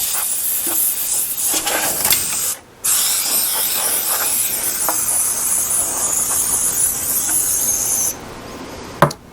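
Compressed air blasting dirt out of a Powermatic III, a loud continuous hissing spray broken by a brief pause, then cutting off near the end before a short sharp click.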